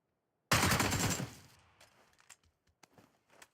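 AK rifle fire in a video game: a loud, abrupt close burst that rings out and decays over about a second, followed by faint scattered footsteps and clicks.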